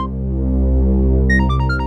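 A mobile phone rings with a short melodic electronic ringtone that starts partway through, its bright beeping notes sounding over a low, sustained background drone.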